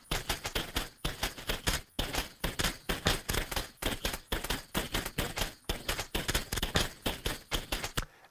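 Sampled office supplies form an effects group of sharp snapping and clicking hits, saturated and processed, repeating in a dense rhythmic pattern throughout, loud and close with no talking.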